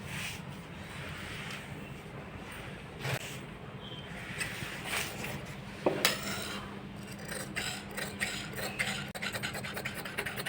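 Scissors snip and rasp through kurti fabric laid on a hard surface, giving irregular close cuts, scrapes and small clicks at a moderate level without talk.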